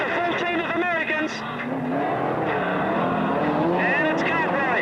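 Super sedan race cars roar around Wollongong City Speedway in a 1983 USA versus Australia test match, a dense, continuous engine din with rising and falling revs as cars pass, under an announcer's commentary.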